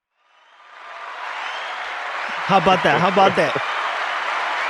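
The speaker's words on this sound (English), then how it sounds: "Round of applause" A round of applause from a comedy show audience swells in from silence and holds steady, with someone speaking briefly over the clapping partway through.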